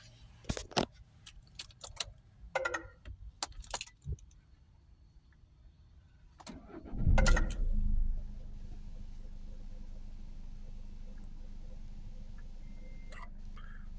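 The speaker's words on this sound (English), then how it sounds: "So let's start the vehicle up now." Toyota ProAce 2.0 diesel van engine cranks and fires after a few clicks and clatters, surging loudly for about a second before settling into a steady, even idle that runs on to the end.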